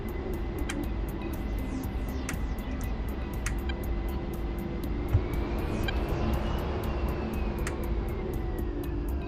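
A fixed-wing aircraft taxis on the ground in a military video game set in Afghanistan, its steady engine drone continuous and fairly loud, with faint periodic clicks over the hum.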